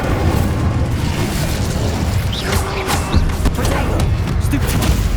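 A fire spell cast in the Hogwarts Legacy video game produces a loud, sustained whooshing blast with deep booming rumbles and scattered sharp bursts. It continues steadily throughout with no break.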